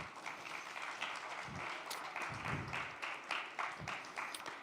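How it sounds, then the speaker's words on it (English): Audience applause at the ETHDenver 2024 conference, a steady wash of clapping from a sizable crowd in a hall, fairly distant and sustained for several seconds with scattered sharper claps and brief cheers. "Let's get a round of applause."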